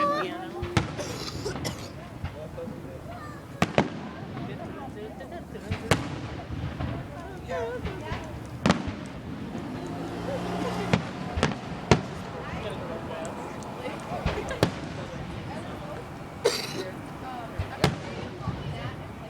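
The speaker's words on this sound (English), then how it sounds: "I want to watch the fireworks again" Fireworks finale at a 2014 display in Hambleton, with sharp bangs and crackling bursts popping repeatedly at mid-distance; people, including children, talk and react throughout.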